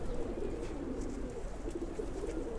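Male pigeons in a cage give off a steady, low murmuring coo that carries on without a break, close by and fairly soft, with no voices over it.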